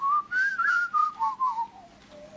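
A person whistles a wavering melodic phrase imitating the call of a currawong, several short rising and falling notes in quick succession, clear and close with no talk.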